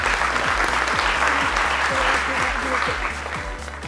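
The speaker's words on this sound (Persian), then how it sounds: "شازیه و عزت الله رو تشویق کنید که سوال چهارم جواب بدن" A studio audience on a Persian-language Family Feud game show claps in steady, rhythmic applause, close and even, fading slightly at the end.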